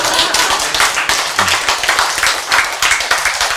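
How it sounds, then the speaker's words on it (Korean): Clapping in a Korean lecture hall on healthy eating, sounding like one or a few people rather than a full audience, with sparse steady claps close by and no talk over them. "왜 한 사람밖에 박수를 안 치고?"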